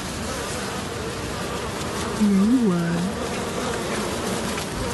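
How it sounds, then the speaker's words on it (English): Honey bees buzz steadily around a new hive, a dense close-up drone filling the whole clip while a person briefly speaks over it. "So this is a new colony of bees"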